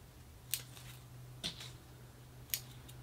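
Three crisp snips of small scissors defoliating a ficus bonsai, spaced about a second apart, close and sharp against a quiet background hum.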